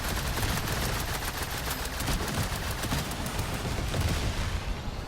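Dense rapid gunfire from the main cannon of a Warhammer Repulsor Tank in the video game Trailmakers, loud and continuous with crackling bursts layered over a heavy rumbling bed, with no pauses.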